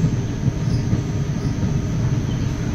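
Malda-Howrah Intercity Express rolling into New Farakka Junction: a steady, close rumble of the moving train with dense low-pitched running noise throughout and no speech.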